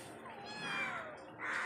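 A cat lets out a drawn-out, falling meow followed by the start of a second one, close and clear with no voices over it.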